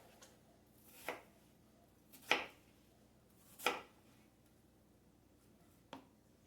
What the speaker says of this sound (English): So now go ahead and just cut down into slices.